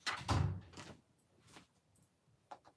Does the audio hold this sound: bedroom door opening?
yes